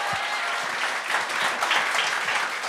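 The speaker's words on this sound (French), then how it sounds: "on peut l'applaudir" Warm, sustained audience applause at a comedy talent show, many hands clapping steadily and swelling slightly toward the end, with a few low thumps underneath.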